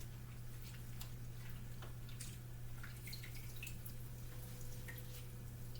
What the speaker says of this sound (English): just washing one ball in the sink to make sure I get all of the extra